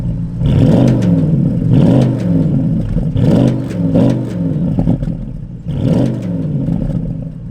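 Porsche Panamera Turbo S E-Hybrid with sports exhaust revving in loud repeated bursts, each rise and fall of engine note followed by a short pause, close and alone with no talk.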